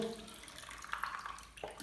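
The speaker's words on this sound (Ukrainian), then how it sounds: "відкручую, зливаю воду з дренажу" Water drains in a steady trickle from the drain filter of a Samsung WW60J3263 washing machine, running close and continuous with small splashy variations throughout.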